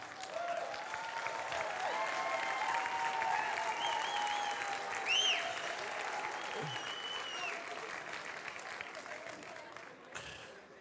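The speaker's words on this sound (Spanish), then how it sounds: "Y ustedes más encima me aplauden." Congregation applause in a church service, sustained clapping from many hands that carries on at moderate distance with scattered voices and whoops over it, tapering off before a thump at the end.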